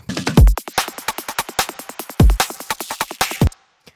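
A dense, punchy drum and bass electronic drum pattern with rapid hits and two deep booming big-clap accents, cutting off abruptly into near silence.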